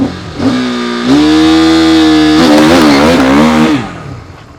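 Loud and near, a second-hand sport bike fitted with a quickshifter pulls hard through the revs, its whine rising and then stepping through rapid clutchless upshifts before the sound tails away.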